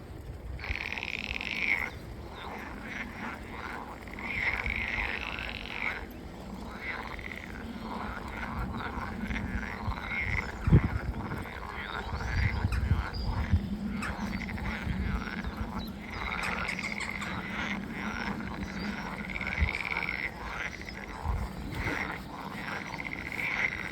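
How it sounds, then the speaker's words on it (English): Dense chorus of frogs croaking beside a cycle path in the Netherlands, a loud continuous rasping din with pulsing swells, heard throughout without any talk. "the noise from the frogs is insane"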